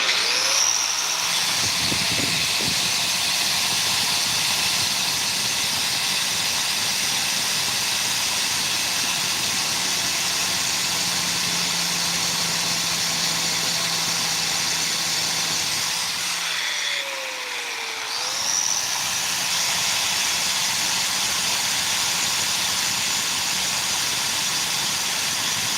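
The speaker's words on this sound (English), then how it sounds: "That little cheap cutoff wheel did all right" A cheap cutoff wheel cuts into a wooden knife handle with a continuous, loud, high-pitched grinding whine. The whine holds steady for most of its length and dips briefly before resuming.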